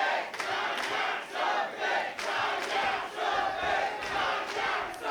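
A pro wrestling crowd at a Limitless Wrestling show roars and chants, with loud rhythmic swells of cheering that rise and dip repeatedly throughout, filling the arena.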